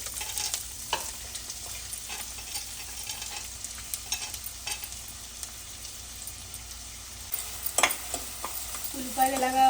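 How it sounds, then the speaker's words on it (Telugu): Chopped onions frying in plenty of oil in a pan, a soft continuous sizzle with occasional stirring clatters. A few sharper utensil knocks come near the end. "ఉల్లిపాయలు వేస్తున్నాను"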